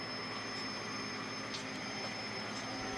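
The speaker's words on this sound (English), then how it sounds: "Now you can see the spindle spinning when it shouldn't be." A Tree Journeyman 325 CNC milling machine spindle spins on its own, giving a steady, continuous whir and hum with a faint high tone. It stays even and unbroken throughout, with no talk.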